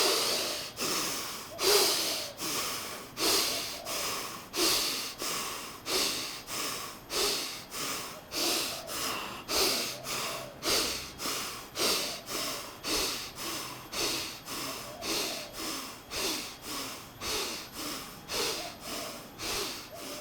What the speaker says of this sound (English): Let's do another series of breath.